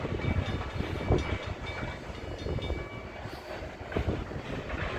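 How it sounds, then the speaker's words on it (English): A CN freight train rolls past a railroad crossing with a steady, loud rumble and clatter of cars and faint wheel squeal, heard from close by. "And there's the end of the train."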